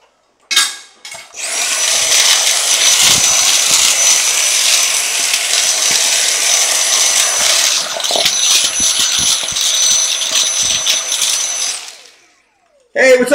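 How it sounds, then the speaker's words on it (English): A Dyson vacuum cleaner starts up and runs loud and close with a steady high whine for about ten seconds, then cuts off abruptly. "There's a Dyson in the house. There's the Dyson."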